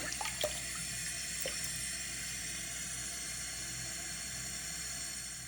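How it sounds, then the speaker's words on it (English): Tap water runs steadily over a bundle of braiding hair in a sink, a quiet continuous hiss with a few soft splashes and drips near the start. "I'm gonna rinse it out with some water and let it dry."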